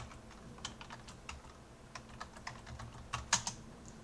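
Someone types on a computer keyboard at a terminal: a quiet, irregular series of close key clicks, sparse at first and then quicker, ending in a firmer tap, with no voices.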